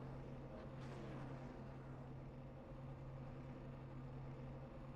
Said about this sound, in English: All the cars idling on the 45 here.